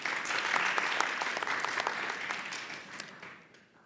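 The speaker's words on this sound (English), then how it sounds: "Give her a big round of applause" An audience at a doctoral education event gives a warm round of applause, dense clapping that holds steady and then gradually fades toward the end.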